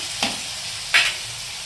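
Ridge gourd pieces frying in a pan give a steady soft sizzle, broken by two brief scraping stirs of a spatula, close and without talk.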